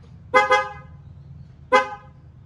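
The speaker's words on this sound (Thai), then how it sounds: "ตัวนี้มีติดตั้งแตรนะคะชุดแตรพีเลยนะคะ" An aftermarket car horn on a new Suzuki Jimny honks twice, a quick double toot followed by a single blast, loud and close against a quiet background.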